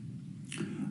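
A single sudden sneeze breaks through a quiet interview-style recording. It is short, sharp and close, lasting well under a second.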